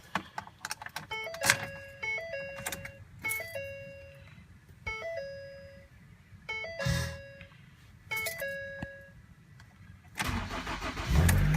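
Inside a 2011 Ford Escape XLT with a 2.5 liter four-cylinder, repeated dashboard warning chimes sound in short bursts before the cold engine cranks and catches loudly at the end.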